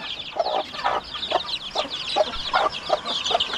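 Mother hen kept in a coop with her small chicks gives repeated soft clucks at a steady rhythm, close and clear, with no talk.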